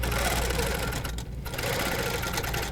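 A sewing machine stitches steadily along a quilting ruler while sewing a hexagon quilt block, a fast continuous mechanical whir with a brief dip in the middle before the stitching picks up again.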